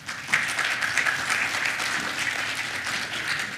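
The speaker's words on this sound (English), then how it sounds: "A round of applause to our incredible speakers and moderator" Steady, even applause from a plenary session audience at an AI forum, a full room clapping continuously at moderate volume with no speech over it.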